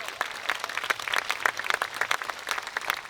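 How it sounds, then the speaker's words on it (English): An opera concert audience gives a round of applause, dense rapid clapping from many hands at moderate distance, steady for the whole stretch with no talking. "Round of applause for Patty, please."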